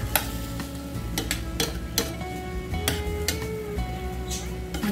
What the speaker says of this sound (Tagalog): ngayon po ay lagay na natin yung papaya. Ayan guys. Gisa-gisa lang po yan.